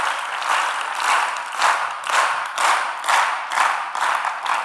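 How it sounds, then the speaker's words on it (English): An audience in a lecture hall claps together in unison, sharp synchronized bursts repeating about twice per second, loud and regular with no talking. "is to clap in unison, synchronously"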